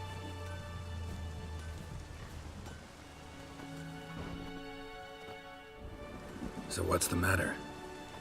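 Steady rainfall in The Witcher 3 patters softly in the background while a voice talks over it, with hoofbeat-like clip-clops and a brief louder clatter near the end.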